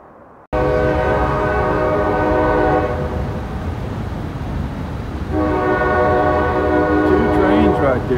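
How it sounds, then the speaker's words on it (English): A long welded rail train thunders over a bridge with a loud, sustained horn blast, which eases midway and then sounds again over the continuous close rumble of the passing cars. "It's a welded rail train."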